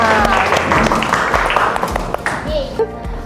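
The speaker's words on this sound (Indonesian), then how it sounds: "Oke, tepuk tangan buat kita semua." Children in a classroom clap together, uneven bursts of hand claps mixed with overlapping young voices and chatter that rise and fall across the moment.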